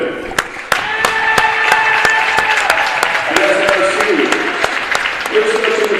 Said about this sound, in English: a round of applause for the Anderson Ravens of runner for the tournament 2022